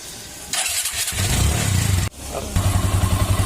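A Bajaj Discover 135 motorcycle with a freshly restored engine, new battery and refitted silencer starts up: a brief starter whirr, then the engine catches and idles in a steady loud throb, a short dip, then the idle resumes close by.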